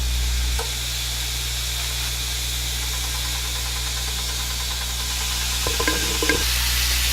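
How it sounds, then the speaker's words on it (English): Burgers sizzle on an indoor grill, giving a steady hiss of frying throughout with a low mechanical hum beneath and a few brief clatters near the end. "You're just going to place your burgers on your grill."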